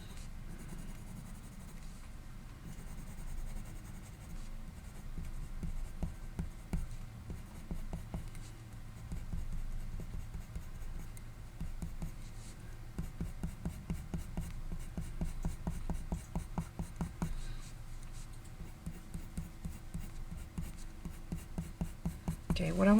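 Pencil drawing and blending husky fur on paper: soft, steady scratching and rubbing strokes with rapid rhythmic bursts of hatching, close and quiet, with a voice speaking over parts of it.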